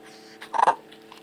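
A single short canine vocalization, a brief whine or yip, sounds close by over a quiet background hum.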